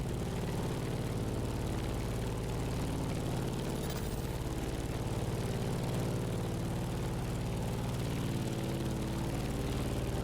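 Steady, droning airplane engine in The Crew Motorfest, a low continuous hum with propeller-like tone holding evenly throughout with no talking.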